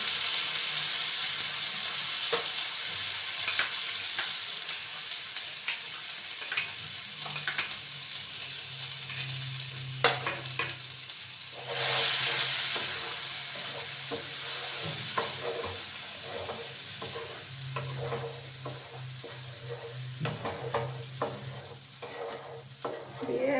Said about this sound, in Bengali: এই যে দেখো পেঁয়াজ রসুন আদা আর কাঁচা লঙ্কা সেটা তেলটা আমি দিয়ে দিলাম